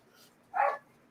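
Excited dogs indoors letting out a single short, sharp bark at middle distance, with a faint yip just before it and quiet otherwise.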